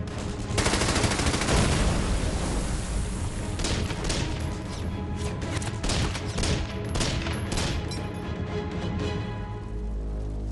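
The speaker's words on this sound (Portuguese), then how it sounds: "O segundo-tenente Vernon Baker e seu pelotão precisam passar pelas metralhadoras. Ele lança sua granada." World War II battle at the German Gothic Line in Italy, with a thrown grenade and machine-gun fire: dense, loud rattling bursts and sharp cracks crowd together almost without pause, with heavier booms in places.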